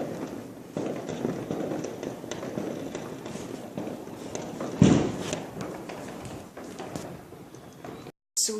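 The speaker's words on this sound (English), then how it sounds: "As you can see, the biggest firework ever." Fireworks go off at midnight, heard as a dense crackle of distant pops and rumbling bursts, with one sharper, louder blast near the middle, recorded from indoors.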